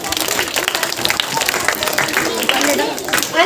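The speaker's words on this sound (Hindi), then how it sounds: "इनके लिए जोरदार तालियां हो जाओ।" A school audience claps at a Teacher's Day celebration at an Urdu school, with dense, lively applause running throughout and crowd voices mixed in.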